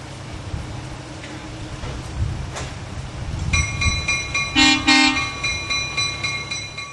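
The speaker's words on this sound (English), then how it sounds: "3502 has uncoupled from the cars and is being turned around on the turntable" Locomotive 3502, in Chicago and Northwestern colors, on the Billy Jones Wildcat Railroad turntable, gives a low mechanical rumble, then a bright multi-tone whistle sounds in several short, loud toots near the end.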